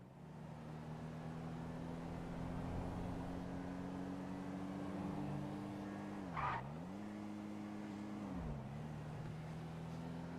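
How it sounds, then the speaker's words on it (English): A car in GTA Online cruises along with a steady, low engine drone, and one short tire squeal cuts in partway through as the engine note dips and recovers. "it's pleasant in this game just driving about"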